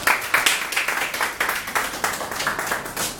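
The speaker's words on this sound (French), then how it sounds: "Allez-y, applaudissez quand même." A gathered audience claps in a loose, uneven rhythm with distinct individual hand claps standing out, fairly loud and close, with no speech over it.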